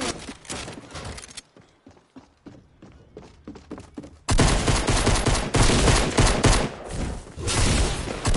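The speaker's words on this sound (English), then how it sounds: "I'm getting shot at." Gunfire in a PS4 video game, sparse shots giving way after a few seconds to dense, loud continuous volleys of rapid fire.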